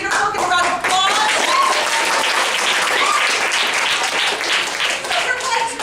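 Sustained audience applause at a live comedy show as two performers are brought on stage, a dense steady wash of clapping filling the whole stretch, with voices and cheers mixed in.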